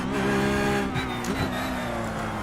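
A damaged race car fights for third place on track, its engine holding a loud steady drone with sustained pitch that dips briefly, heard alone without talk.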